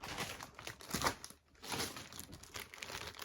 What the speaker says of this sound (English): now excuse the rustling